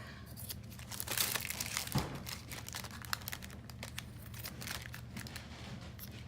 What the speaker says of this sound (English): I'm going to get my fabric scissors and cut off the excess.